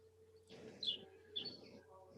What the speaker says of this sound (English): I could hear the birds out there.